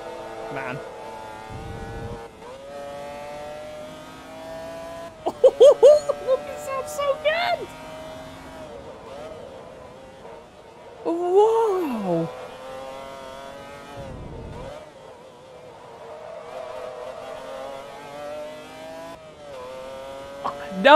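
A McLaren F1 engine in the 2007 racing game Forza Motorsport 2, a loud high whining drone that climbs and drops through gear changes, with sharp revving bursts and brief squeals, continuous across the run.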